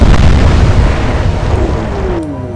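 A warship takes a shell hit in the naval strategy game Atlantic Fleet, giving a loud, close, rumbling boom that fills the clip and slowly decays, with no talking.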